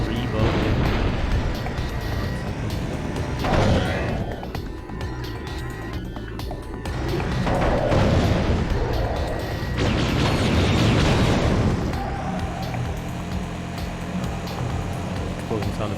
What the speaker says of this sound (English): Explosion sound effects as well.